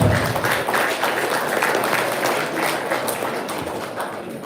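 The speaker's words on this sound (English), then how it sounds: "Let's give the program committee, workshop committee a round of applause" Steady applause from the audience at an NAIA divisional day gathering, a dense continuous patter of many hands that holds level then eases slightly toward the end, with no talk over it.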